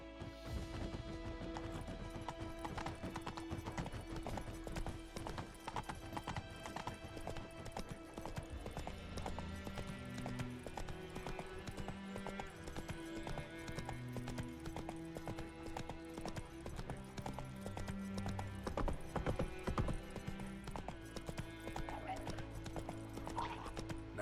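Roach, the horse in The Witcher 3, gallops in game with fast, loud, continuous hoofbeats and occasional whinnies over music, with no talk.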